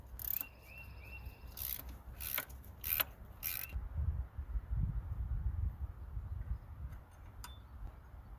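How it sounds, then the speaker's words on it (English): A ratchet wrench removes two 15 mm alternator bolts on a 1999–2006 Chevy Silverado, giving a few quick bursts of sharp clicking early on, then dull scraping and low handling noise, close up. "Now we can go ahead and remove our two 15 millimeter bolts."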